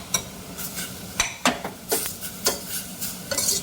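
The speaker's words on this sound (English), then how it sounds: "You can see I'm sauteing off these just a little bit and starting to get a little bit of color building around the sides." Onions sauteing in a pan for a barbecue sauce base, with irregular scrapes and clinks of a utensil stirring against the pan over a soft, steady sizzle, close and moderately loud.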